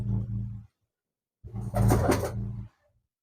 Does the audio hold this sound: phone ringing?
no